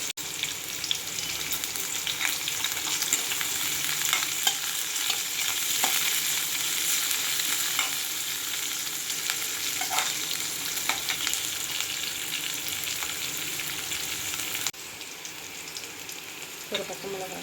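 Potato masala sautéing in a pan, a loud, steady close sizzle of frying with scraping stirs running throughout, easing slightly near the end, with no talk.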